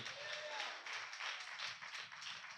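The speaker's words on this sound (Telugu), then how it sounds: "చప్పట్లు కొట్టండి గట్టిగా" An audience claps together, a steady patter of applause that stays fairly faint and distant for the whole stretch.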